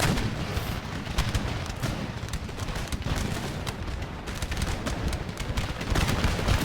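Musket volleys and artillery fire on a battlefield in the strategy game Empire: Total War, a dense, continuous crackle of gunfire with repeated booming cannon shots, loud and unbroken throughout.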